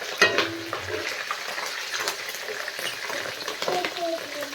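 Curry leaves, green chili and onion frying in a pan while being stirred, a continuous close sizzle with scraping stirs and light clinks, and faint talk at moments.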